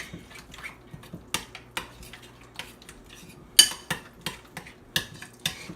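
A utensil stirs tzatziki sauce in a bowl, tapping and clinking against the sides in a loose series of sharp knocks, with a louder run of clinks toward the end, close and isolated.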